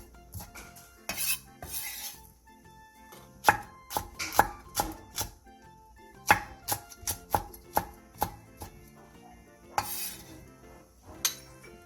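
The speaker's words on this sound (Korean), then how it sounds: "대파 2분의 1개, 청양고추 1개, 청양 홍고추 1개를 어슷썰게 해주세요." A knife slicing green onion and Cheongyang green and red chili peppers diagonally on a cutting board, a steady series of crisp close chopping taps with occasional faster runs.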